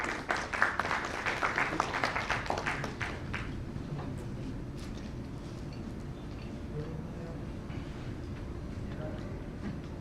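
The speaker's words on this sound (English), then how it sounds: "Please give a round of applause to Professor Lakshmi." Audience applause at a leadership summit as a professor is invited onto the stage, with a short burst of clapping over the first few seconds that then fades into a quiet room hum.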